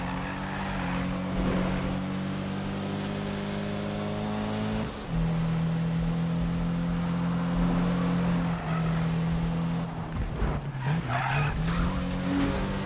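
Cars drifting in the Need for Speed racing game, with engines droning at a steady pitch and long tire squeals rising and bending through the corners, loud and continuous with a brief dip midway.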